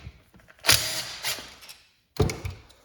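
A transmission shifter from a Mustang's 4R75W gearbox swap is moved through its detent positions, giving a few sharp mechanical clicks and clunks in two separate bursts with a quiet gap between, close up and with no talk.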